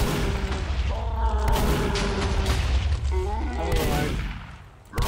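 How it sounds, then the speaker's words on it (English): Critical rockets fired by the Monoculous mod boss in a video game, a dense run of bursting, crackling blasts that fills most of the clip before briefly dropping away, with a voice exclaiming over the barrage. "All of the rockets it shoots are critical."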